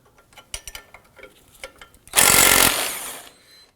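Work on the pinch bolt holding the ball joint to the knuckle of a 2008-2011 Ford Focus: a series of sharp ratchet clicks, followed by a loud, harsh burst of a power tool lasting about a second that then tails off.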